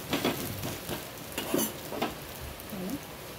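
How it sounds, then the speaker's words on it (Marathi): Beetroot dosa roasting on a hot pan gives a soft, steady sizzle with a few light scraping and stirring clicks, close by, with no voices. "एक साइड अशी भाजून झालेली आहे, आपण पलटी करून घ्यायची"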